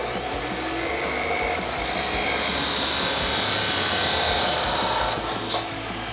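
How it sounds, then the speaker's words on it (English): A saw cuts through the metal mid pipe of an MBRP Armor Pro single exhaust system for a 2024 Toyota Tacoma, giving a steady loud rasping grind for the whole stretch with no pauses. "We're gonna go to our saw and cut that section off."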